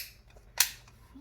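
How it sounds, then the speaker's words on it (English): A single sharp snap as the plastic battery lid of a 1:16 4WD off-road remote control car clicks shut, close and brief against a quiet room. "let's close the lid"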